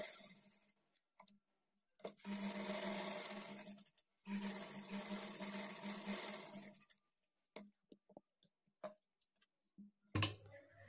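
A sewing machine stitches blouse lining to the main fabric in long steady runs, pausing between bursts, followed by scattered light clicks and handling noises, with no talking.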